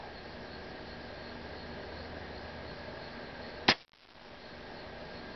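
An air rifle fires a single shot of Craftsman Premier hollow point pellets weighing 14.3 grains: one sharp, close crack over a steady background hiss, followed by a brief dip in level.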